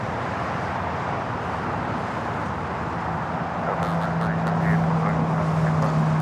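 Airplane taking off from runway 25 right at LAX, a broad, steady jet roar heard from a distance that gradually grows louder and brings in a low droning tone, with people talking over it.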